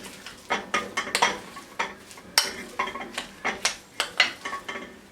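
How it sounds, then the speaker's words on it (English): Kidney bean burger mixture stirred in a bowl, a quick run of soft, wet scrapes and light taps against the bowl, close and quiet, with no talk. "Now I'm going to give these a light mix through"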